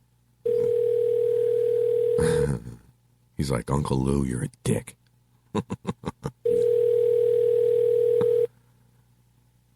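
Outgoing telephone ringback tone: two long steady buzzing rings separated by a stretch of talking and a few short clicks, the tone loud and clear over a constant low hum.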